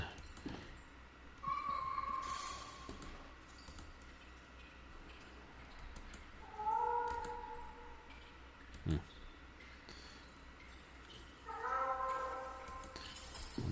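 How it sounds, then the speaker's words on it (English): A cat in The Last Door meows several times, muffled as if behind a wall, with drawn-out cries spaced apart over a quiet room tone broken by faint ticking. "It certainly sounds like the cat dragged his dinner into the wall and is hiding somewhere."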